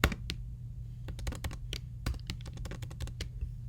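Typing on a computer keyboard, close and clear, with a quick irregular run of key clicks and a low steady hum beneath.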